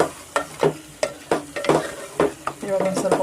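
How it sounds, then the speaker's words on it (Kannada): Cooked mutton frying in a yogurt masala for biryani, with sizzling and repeated scraping stirs of a spoon in the pan at a quick uneven rhythm, close up. "ಇವಾಗ ಒಂದು ಸ್ವಲ್ಪ 1 ನಿಮಿಷ ನಾವು ಫ್ರೈಯಲ್ಲಿ ಹುರ್ಕೊಳ್ಳೋಣ"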